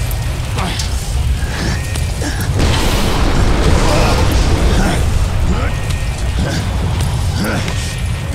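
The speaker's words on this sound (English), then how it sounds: "I predict an imminent detonation within the gravity core generators" Gravity core generators detonate in the video game Bulletstorm, a dense, sustained roar of rumbling blasts and crackling debris that stays loud and continuous throughout.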